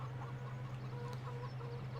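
Chickens cluck in the farming video game Farming Simulator 17, repeated soft clucks over a steady low engine-like hum, continuous and moderately loud, with no talking.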